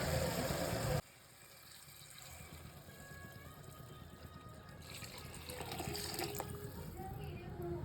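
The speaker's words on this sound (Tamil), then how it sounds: "நாலரை கிளாஸ் தண்ணி வந்து அளந்து வச்சுருந்தேன் அதை தான் இப்போ ஊற்றுனேன்" Water being poured into a pot of chicken biryani in a home kitchen, about four and a half glasses measured for three glasses of rice; a steady, soft pouring and trickling runs for several seconds after a brief louder start.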